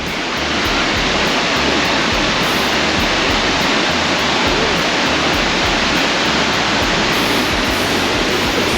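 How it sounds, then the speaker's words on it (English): Murray Falls waterfall in Queensland, a loud, steady, close roar of rushing water that never lets up, with no talk. "This has got to be the 20th or 30th waterfall we've seen on this trip"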